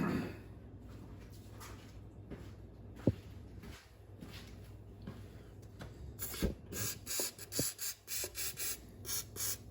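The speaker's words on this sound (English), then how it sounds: "So I'm going to spray some penetrating oil on it" Penetrating oil sprayed onto the bolts of a Mercury 135 Black Max outboard engine: a few quiet clicks and scrapes, then a run of short, bright hissing bursts in the last few seconds.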